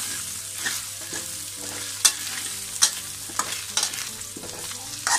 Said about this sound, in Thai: ใส่กระเทียมหอมๆผัดกับเต้าหู้เลย